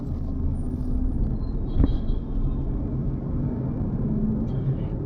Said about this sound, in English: you can see me driving the car now